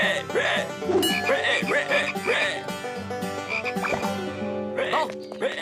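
Loud, repeated cartoon frog croaks in an animated show, throaty bursts coming in quick succession up close with brief pauses between calls.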